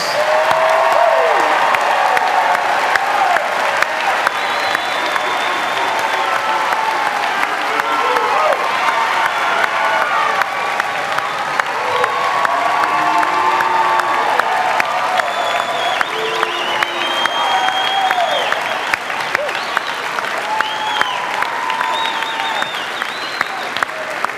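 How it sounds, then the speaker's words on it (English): Sustained applause from a large audience at a Millersville University winter commencement ceremony, steady and dense clapping with some cheering mixed in, continuing throughout at full volume. "how about one more time that we applaud the graduates from all three colleges?"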